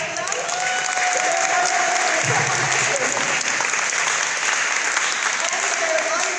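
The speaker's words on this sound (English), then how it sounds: "Can I please get an extra round of applause for them?" Sustained applause from a crowd at a Minnesota Republican gubernatorial debate fills the room, steady and loud throughout with a dense wash of clapping and some crowd noise mixed in.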